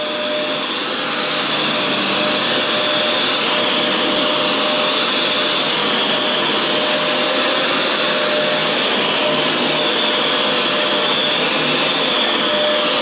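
A Fantom Wildcat vacuum cleaner runs continuously while cleaning a room, a loud steady motor whine and airy rush with no break or voice across the whole stretch.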